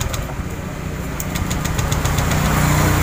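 Honda Vario 125 scooter engine held at high revs with the fuel pump hose not fitted, a loud, rough, steady roar close by that builds slightly toward the end, without talk.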